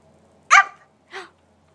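A young child imitates a dog barking with two short vocal woofs, the first louder and the second softer, close and clear against a quiet room.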